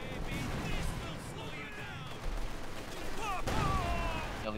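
Machine gun fire and mortar explosions in the Company of Heroes 2 strategy game, rattling bursts and rumbling blasts layered in a busy, steady battle din.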